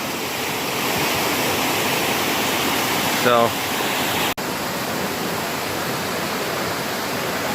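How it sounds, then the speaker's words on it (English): A waterfall in Upstate New York wilderness roars as a constant broad rush of water, loud and steady, with a brief chirp and a faint thump from the person filming. "there's the waterfall, guys."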